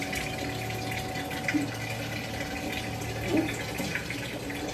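A steady electric water-filter pump hum with water running and filling a clay pot, continuous and moderately close, with a couple of brief splashy gurgles.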